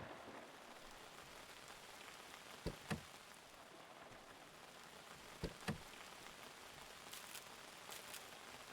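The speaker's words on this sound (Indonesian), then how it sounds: "Lah hujan lagi kocak." Steady rain pours in the video game Out Bound, a soft continuous patter with a few sharper drip clicks, faint and alone with no voices.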